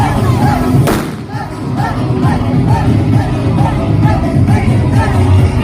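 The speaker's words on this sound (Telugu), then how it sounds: "కోహ్లీ 4 కొడితే అరుపులు, 6 కొడితే బాంబులు వేల్చి మోతం మోగించేశారు." Firecrackers burst among a crowd at a cricket victory celebration for an RCB win, a loud thud near the start followed by a dense, noisy crowd din with chanting throughout.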